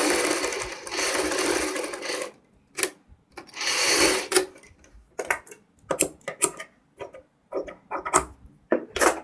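Sewing machine stitching along the edge of buckram on a boat-neck blouse front, in bursts: a long steady run, a second shorter run, then a string of brief stop-start clatters, close and fairly loud, no talk.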